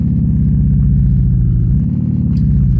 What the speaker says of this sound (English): notice that they've actually got the sound files so that you can hear the car change gears